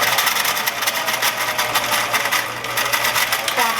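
A sewing machine runs steadily up close, backstitching along a garment sleeve seam, its rapid needle clatter continuous and even throughout.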